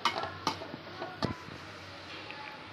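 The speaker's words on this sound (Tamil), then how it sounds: "நல்லா மிக்ஸ் பண்ணலாம்" Egg bhurji mixture is stirred in a pan with a spoon, making quiet scraping and several light clinks and taps at an uneven rhythm over a soft background, close and fairly faint.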